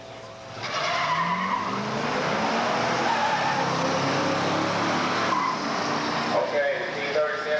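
Drag race launch between an Oldsmobile 442 W30 and a Pontiac T37 455 high output, a loud sustained roar of engines with tire squeal carrying across the strip, with a voice talking over it.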